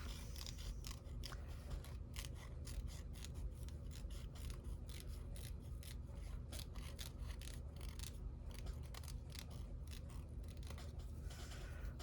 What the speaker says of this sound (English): I'm going to trim a little bit inside of the circle that I drew